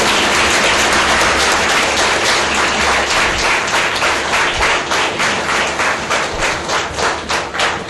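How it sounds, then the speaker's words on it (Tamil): Full-room standing ovation at a school teachers' day event, a dense, loud, sustained wash of clapping from a large crowd filling the whole stretch with no talking on top. "A standing ovation needed."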